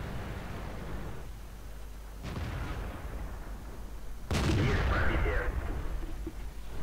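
Tank cannon fire in a tank video game, a 155 mm gun among the tanks: heavy booming shots over a constant engine rumble, with a loud close blast near the end.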